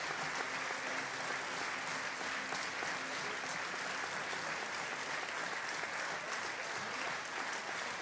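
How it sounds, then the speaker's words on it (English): A distant stadium crowd applauds during a Rugby World Cup 2019 repechage match between Hong Kong and Kenya: a steady, even wash of clapping and crowd noise, faint and unbroken for about eight seconds. "Warm applause for Coleman Were, and the hand gesture to say he's okay."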